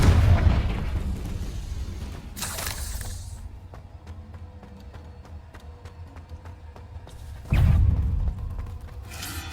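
Booming blasts from the Confringo fire spell in Hogwarts Legacy, one loud explosion at the start, another burst midway, and a third loud blast near the end, with lighter combat noise in between.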